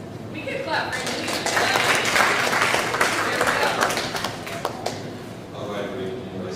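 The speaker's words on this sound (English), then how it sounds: "We can clap for him." A school audience claps for a student, a full, busy patter of many hands swelling in the middle and fading toward the end, with voices underneath.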